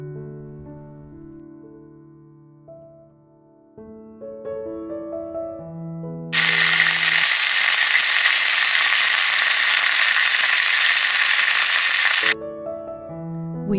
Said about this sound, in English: once the pork roast is all browned in a pan